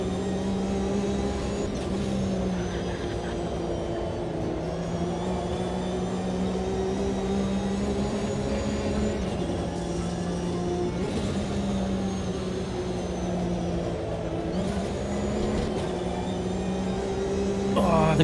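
A race car engine drones steadily in the Automobilista 2 sim racing game, holding a sustained tone with shifting pitch through gear changes and revs. Tyre noise sits underneath, and the car runs continuously for the whole stretch.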